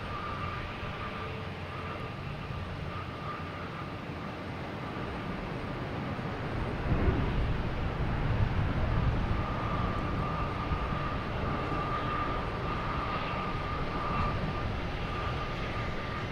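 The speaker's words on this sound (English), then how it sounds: "Next on 22 right, we have a JetBlue flight 1620, appropriately, heading to London Heathrow. It's an A321neo. It is on the roll." A JetBlue Airbus A321neo, flight 1620 to London Heathrow, rolls for takeoff on runway 22 right at Boston Logan at night, its steady engine roar swelling louder midway and holding as a broad, sustained rush with no talk.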